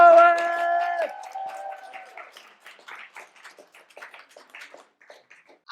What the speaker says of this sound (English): Manual applause for AJ the poet!